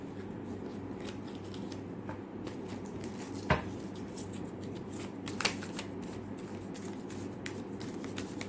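Tarot cards being handled and shuffled in a continuous soft riffling rustle, close and quiet, with a couple of sharper snaps as cards are drawn and no talking.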